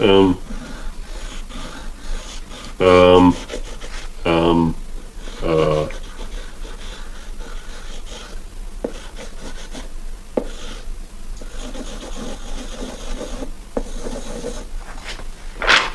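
Pencil scratching and rubbing on paper while someone sketches, with soft, irregular strokes and short pauses, heard close up under intermittent talking.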